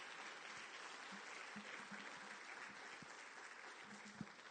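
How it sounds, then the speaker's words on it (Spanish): Steady church crowd applause fills the whole stretch, dense and continuous, with a few louder claps standing out near the end. "Dan un aplauso al Señor."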